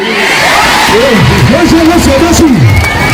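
A large, loud crowd cheers and shouts continuously at a rally in northern Rwanda ahead of elections, while a voice calls out over the steady roar.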